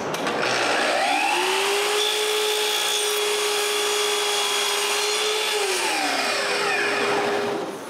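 Power saw slicing wooden frame pieces at a 45-degree angle for a small pharmacy cabinet door, a single loud whining cut that climbs to a steady pitch, holds for several seconds and then spins down.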